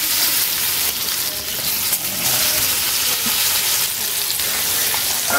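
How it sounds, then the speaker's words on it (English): Pecan crusted fish fries in a preheated hot pan over medium-high heat, giving a steady, loud, bright sizzle that carries on without a break and with no talking. "I'm cooking it over on each side over medium-high heat"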